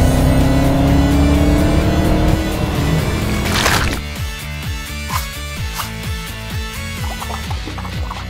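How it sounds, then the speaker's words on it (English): A cartoon sludge bus rolls out with a loud engine roar that swells, then drops to a rougher rhythmic chugging and clattering motor with a steady rumble, heard alone. "roll out the sludge bus"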